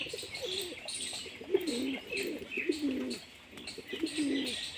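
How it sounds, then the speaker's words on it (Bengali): Male Giribaz pigeons coo in soft, repeated rolling phrases close by, with faint higher chirps from other birds in the background and no talking. "এগুলো নর পায়রা গিরিবাজের মধ্যে।"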